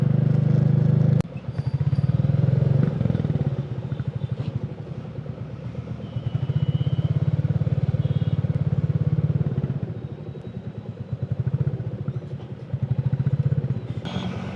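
Royal Enfield Classic 350 motorcycle riding on a road, its single-cylinder engine thumping steadily and loud throughout, with the pitch rising and falling as the rider accelerates and eases off, preceded by a brief sharp knock near the start.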